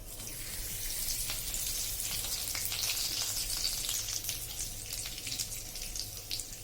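Cumin seeds and curry leaves crackle and sizzle in hot oil, a close, continuous bright frying hiss scattered with sharp pops and spits, with no talking.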